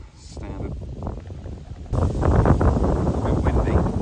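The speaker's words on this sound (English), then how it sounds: "A bit windy." Wind buffets the microphone beside a fishing lake, quieter at first and then surging into a louder, steady rumble while a person talks over it.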